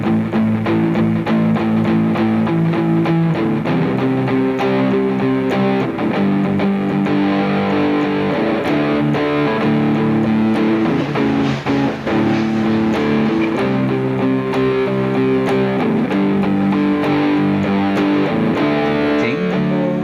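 Distorted electric guitar chugs through a string of power chords, dense and loud with effects, changing chords steadily for about twenty seconds without any talking.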